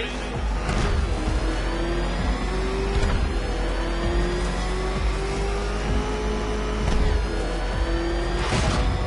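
A vehicle engine in Batman Arkham Knight revs steadily and loudly, its pitch climbing again and again as it shifts through gears, with a voice speaking over the drone.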